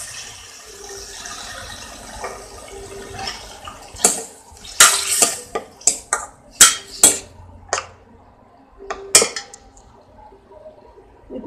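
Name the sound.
pouring ground sweet corn water into the pan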